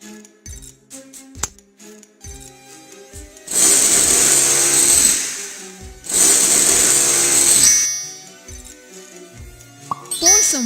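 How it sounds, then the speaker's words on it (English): A power drill whirs loudly in two bursts of about two seconds each as it bores a hole into an empty plastic bottle, with soft clicks and handling noises before, between and after the bursts. "Make a hole with a driller."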